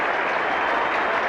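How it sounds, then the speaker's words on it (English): Warm crowd applause at an England cricket match as a batsman reaches a century, loud dense clapping holding steady throughout. "And even the bowler is clapping"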